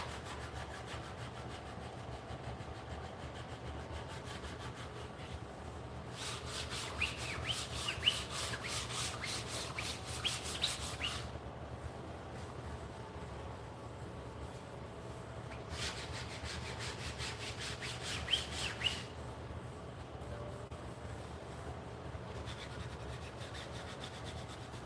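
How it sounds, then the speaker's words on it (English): A Cricut scraper rubbing heat-and-bond adhesive residue off a surface, two bursts of brisk back-and-forth scraping, each several seconds long, close and fairly quiet, with pauses between. "So I take my Cricut scraper and I just scrape it"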